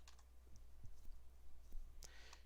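Quiet, sparse clicks of someone typing a few keys on a computer keyboard during an Adobe Edge Animate session, faint and scattered over steady background hum.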